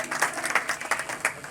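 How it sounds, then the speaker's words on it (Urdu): An audience at the opening ceremony of a garment business claps together in steady, dense applause that stays fairly loud and even throughout the short moment. "آپ کی بھرپور تالیوں میں"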